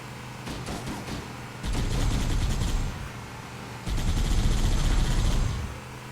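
Rapid gunfire bursts from Halo: Combat Evolved, two sustained volleys of automatic shots ringing out loud and close over a constant game background hum, with a quieter pause between them.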